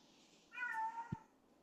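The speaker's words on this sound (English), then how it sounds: "that's my cats yelling at me" A cat gives one short, fairly faint, drawn-out meow indoors, followed by a brief thump against a quiet background.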